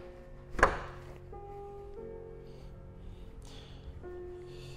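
Front trunk lid of a BYD Han sedan shuts with a single sharp thump early on, followed by quiet background hum.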